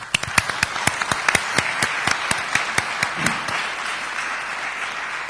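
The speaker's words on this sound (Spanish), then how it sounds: "Un aplauso al compañero que estará siempre con nosotros." Applause at a secular-society conference in a Gijón community centre: a small audience claps in steady, distinct hand claps that start sparse, thicken into a brief, moderately loud round, then fade out.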